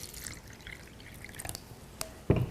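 Tap water poured out during a Kangen water demonstration, with faint scattered drips followed by a brief, louder splash of liquid near the end.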